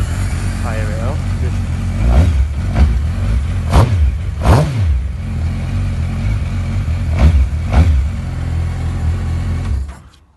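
A garage-workshop engine fires up and is revved several times, loud close swells rising and falling in pitch, with speech breaking in at moments before it cuts off abruptly at the end.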